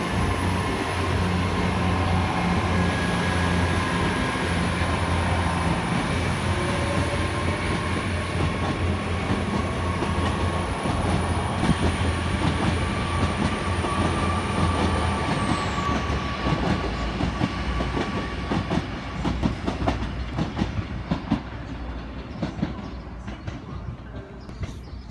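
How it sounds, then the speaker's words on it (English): A London Paddington train pulls out of Exeter St David's station on a Sunday evening, its steady engine rumble and rail noise loud and continuous, a high whine fading near the end. "London Paddington service now leaving on time."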